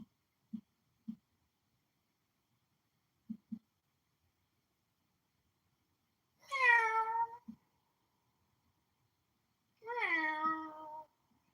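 A cat gives two clear, drawn-out meows a few seconds apart in a quiet room, with a few faint clicks and taps between them.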